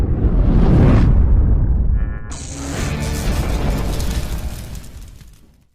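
A bomb goes off in a Jakarta nightclub in a 2015 film scene: one heavy, loud blast, then a long roaring rumble and debris that slowly fade away.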